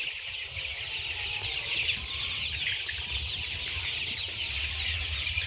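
A flock of 33-day-old layer chicks in a poultry shed keeps up a continuous, fairly soft chorus of overlapping chirps and clucks, with no talking.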